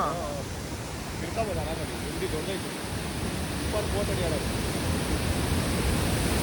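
Diamond Falls in Chikkamagalur pours as a steady, dense wash of water noise, loud and continuous from start to end, with faint voices underneath.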